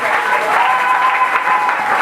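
A church congregation applauding during a French-language service, with dense, loud, steady clapping that fills the whole stretch.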